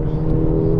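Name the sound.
Mercedes-Benz A-Class 2015 driving hard through corner on track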